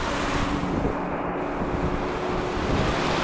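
Steady, roaring wind noise buffets the microphone throughout, a dense broadband rush with no voices, from strong wind during heavy rain in Leyte.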